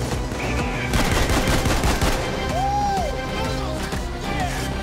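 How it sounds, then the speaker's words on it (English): Rapid automatic shotgun blasts crack out in the video game Payday 2, a dense burst of gunfire with game effects and a rising whistle-like tone among the shots. "I like the automatic shotgun way more than the Rhinebeck."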